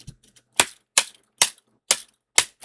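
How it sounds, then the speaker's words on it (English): Improvised drumming by tapping on a hard object, five sharp, evenly spaced knocks about half a second apart, loud and close with no talk. "I'm gonna practice my drumming. Oh, what if I drum with"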